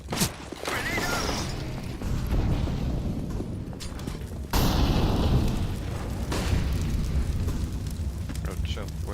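Explosions and heavy rumbling in a video game firefight, with loud booming bursts and a sharp blast near the middle over continuous low roar; voices talk throughout.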